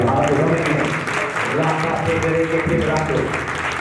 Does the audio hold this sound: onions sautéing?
no